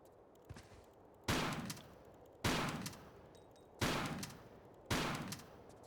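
Four loud shotgun blasts at a scorpion in Tomb Raider The Last Revelation, evenly spaced about a second apart, each sharp report trailing off into a short decay over a quiet background.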